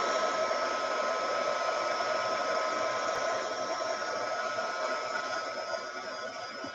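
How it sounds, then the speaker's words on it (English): Heat gun blowing on wet faux henna, a steady close airy roar with a faint whine that holds for several seconds and fades slightly toward the end. "now I'm anxious to hit this here with the heat gun to see if it's even going to flake"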